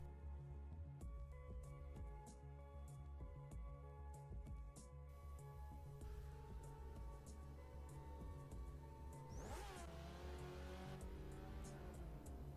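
A 1990 Mazda MX5 races around the Brands Hatch GP circuit in Forza Motorsport 7, its engine droning steadily close up with rising and falling revs and brief tire noise, quiet overall.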